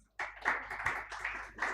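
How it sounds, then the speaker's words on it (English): An audience claps and applauds for award winners at a ceremony in New Delhi, a steady patter of many hands starting abruptly and sustained with small swells, no voices over it. "Can we have a huge round of applause for the winners?"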